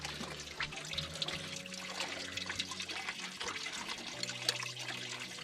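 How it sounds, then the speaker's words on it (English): Fresh diesel is poured into the fuel filter of a Ford 2701E diesel engine on a grapple log loader, a faint continuous liquid trickle and pour with soft background clatter. "we've filled up our fuel filter with a fresh diesel"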